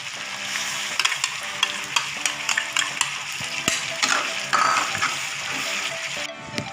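Blended tomato being stirred into a chicken curry pan, with a steady sizzle and frying hiss underneath and repeated light scrapes and taps of the spoon against the pan, close and fairly loud.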